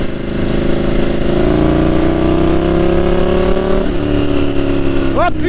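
A car engine drones loudly nearby, its pitch sliding down as it passes, with a brief squeak near the end.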